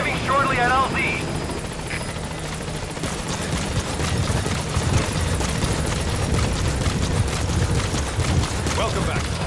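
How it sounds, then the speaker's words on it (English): A support helicopter in Metal Gear Solid V arrives at a landing zone, its rotor thumping steadily and loudly under radio-style voices and game effects. "In the meantime, get on the chopper."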